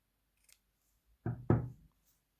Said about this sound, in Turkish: Ve ipimi kesiyorum.